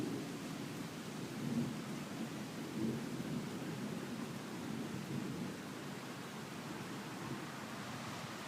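A late-night thunderstorm in Riga: steady rain hisses continuously under a low, rolling thunder rumble that swells slightly twice, with no voices.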